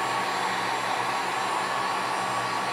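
A heat gun blows hot air steadily, a constant loud whooshing hiss with an electric whine that holds evenly from start to finish.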